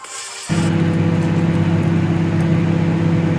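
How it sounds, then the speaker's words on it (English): A steady mechanical hum with a low drone starts abruptly and runs continuously, close and fairly loud, like a microwave oven switched on. "add some boiling hot water and cook in the microwave for up to a minute"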